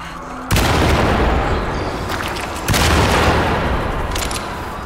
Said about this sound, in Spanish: Increíble cómo resuenan los disparos de la escopeta